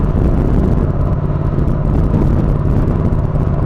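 A Yamaha Tracer MT07 motorcycle cruises in sixth gear, with a steady, loud drone of engine and wind noise and no clear changes in pitch.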